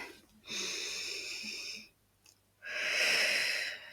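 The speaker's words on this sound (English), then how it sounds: "we're going to take a deep breath in" A slow, deep breath drawn in and then let out, close and airy, two long breathy swells separated by a short pause.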